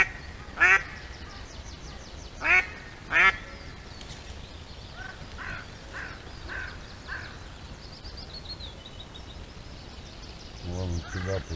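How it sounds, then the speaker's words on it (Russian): Ducks quack on the water during a drake hunt with a live decoy duck, a few sharp bursts of quacking near the start, softer calls in the middle and more quacks at the end, over quiet outdoor background. "Две утки."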